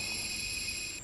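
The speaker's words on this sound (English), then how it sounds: "So what you just heard was the vigilance system." In the SimRail ED250 Pendolino train simulator game, the vigilance system alerter sounds as a steady, fairly faint high electronic tone over a low cab rumble and stops just before the end.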